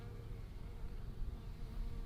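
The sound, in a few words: honey bees buzzing around a hive frame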